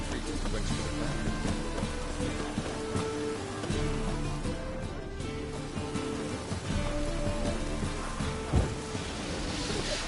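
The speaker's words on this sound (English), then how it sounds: "Looks like rain." Rain falls in the video game The Witcher 3, a continuous, even hiss of drops that holds at moderate loudness for the whole stretch, with no clear talk.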